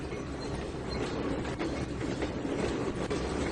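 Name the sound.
train moving in a video game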